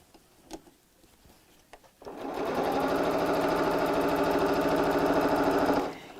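A sewing machine stitches fabric for a tote bag, with a steady, rapid mechanical whir and clatter that starts after a couple of seconds of quiet handling and runs evenly for nearly four seconds before stopping.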